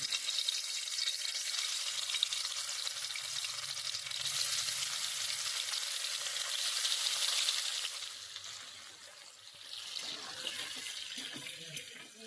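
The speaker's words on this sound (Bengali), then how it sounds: "একটু লাল লাল করে দুপাশে ভেজে নিতে হবে" Paneer pieces fry in mustard oil in a kadai, giving a bright steady hiss that swells and eases a little, close and fairly even throughout, with no talking.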